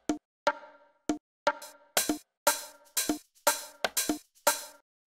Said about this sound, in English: So the next thing that we have here are these congas, which sound like this.